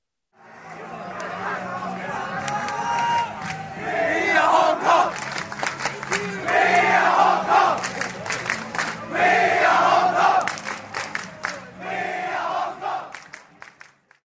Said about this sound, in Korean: 2015년 11월 17일 몽콕 스타디움의 관중석